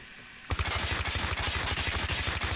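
A PDW-57 submachine gun fires from the hip in a video game, going from quiet into a rapid, loud automatic burst that holds for about two seconds of evenly spaced shots.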